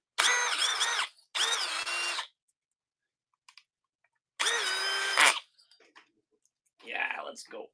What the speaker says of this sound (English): M12 drill, the only one I have.